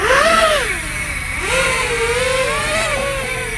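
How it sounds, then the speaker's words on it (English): A Ghost 220 five-inch FPV quadcopter drone's motors whine loudly, rising and falling in pitch as the craft spins up and lifts off, close and steady with no talk. "So let's go ahead and unlock the motors and take it up."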